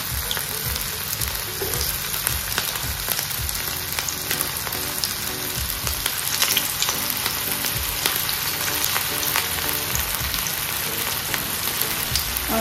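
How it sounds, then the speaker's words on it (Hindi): Vegetable manchurian balls fry in hot oil, a steady, dense crackling sizzle held at close range throughout, with small pops scattered across it and no voices. "ऑयल जो है जब अच्छे से गरम हो जाए तब हम इन बॉल्स को इसमें एक एक करके डाल देते हैं।"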